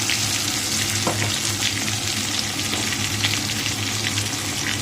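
Spice paste of masala with green chillies fries in a pan beside fish, giving a dense, even sizzle that holds loud and steady throughout with faint stirring scrapes and no voices.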